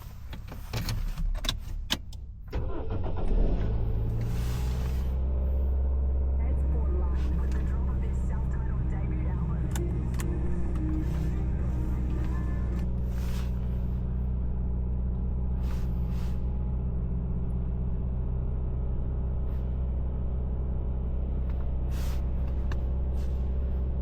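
A car engine turns over and catches early one morning in New Zealand, then settles into a steady low idle to warm up, with some brief talk nearby.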